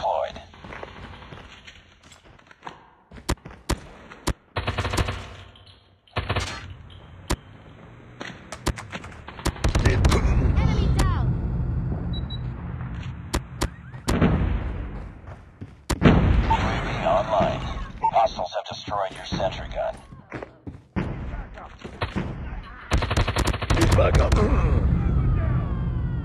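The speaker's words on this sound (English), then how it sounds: "Sentry gun deployed." An automated sentry gun fires in a video game shooter, rattling off rapid bursts of gunfire among other shots and explosions, with loud sustained stretches of firing mixed with game voices and talk.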